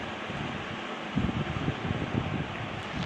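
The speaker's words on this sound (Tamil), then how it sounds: "ஃபேன் ஆஃப் பண்ணிட்டுங்களா நான் பேசுறது கேட்காதே" An electric fan runs in a room, producing a steady, fairly loud whooshing drone with slight fluctuating rumble throughout and no speech.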